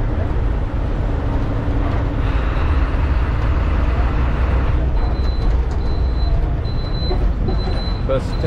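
KSRTC bus engine and road rumble during a ride through Wayanad toward Tholpetty, a steady loud drone throughout with a faint repeating high beep in the second half.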